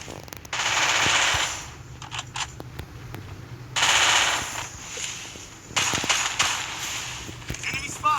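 Rapid automatic gunfire from a video game weapon, coming in several loud sustained bursts separated by brief gaps and scattered single shots, over low background noise.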